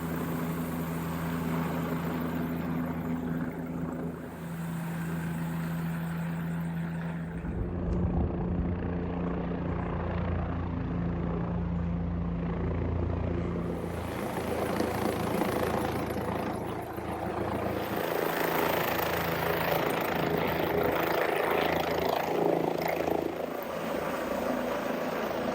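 A helicopter flying a load of human waste out from a mountain hut on the Old Bridle Path trail, its rotor thump and turbine whine droning steadily and loudly, fading slightly midway and then swelling back close.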